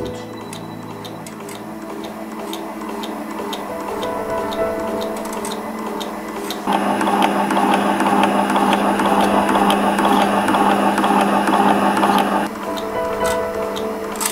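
A Kodak Reels digital film scanner runs a film transfer, giving off a steady mechanical ticking with regular clicks and a motor hum that grows louder and busier partway through, then eases back near the end, with no talking.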